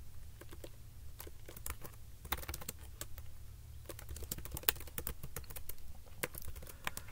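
Fast, irregular clicking of keys on a computer keyboard, close and fairly quiet, with steady tapping bursts and a low hum behind, no voices.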